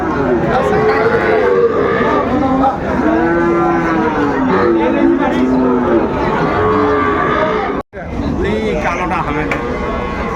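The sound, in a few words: cattle mooing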